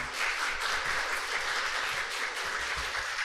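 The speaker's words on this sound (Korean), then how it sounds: "우리 박수로 그렇게 환영하도록 하겠습니다" A church congregation at Sunday worship claps to welcome a missionary to the front, a fairly soft, steady patter of many hands with a few sharper individual claps, no voices over it.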